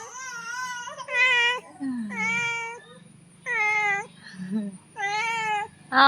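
A cat meows repeatedly, loud and close, in drawn-out cries separated by short pauses, with faint low murmuring between calls.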